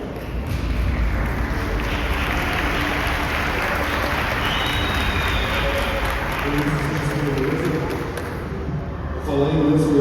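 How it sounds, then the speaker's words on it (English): A convention panel audience applauds with steady, dense clapping that lasts the whole stretch, with faint talk and a brief swell near the end. "Give him a round of applause."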